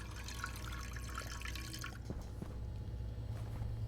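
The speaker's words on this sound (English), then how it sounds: "I can click that and have a drink of water." Water gurgles and drips as a drink is taken in the Stationeers game on Mars, a soft, close run of liquid sounds over a low steady hum, quiet and brief.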